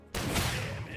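A single loud gunshot in a shooter video game, an abrupt close blast followed by a noisy rumbling tail that fills the rest of the moment.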